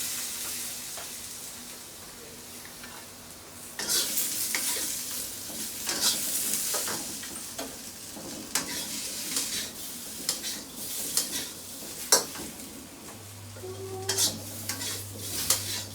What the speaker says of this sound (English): Patiently continue stir-frying over low heat until the taro skin turns an appetizing golden yellow